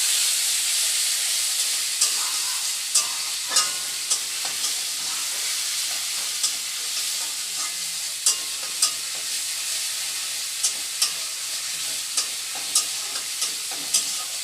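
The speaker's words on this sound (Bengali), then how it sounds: "আর এই যে জিরে বেটে রেখেছি, কাঁচা জিরেটা তেলের উপরে দেবো।" Ground raw cumin frying in oil for a fish curry, a loud continuous hiss and sizzle with regular scraping strokes of a stirring spoon every second or so, close and without talk.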